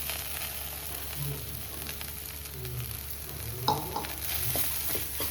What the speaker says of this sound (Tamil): கோவக்காய் நல்லா வதங்கிடுச்சு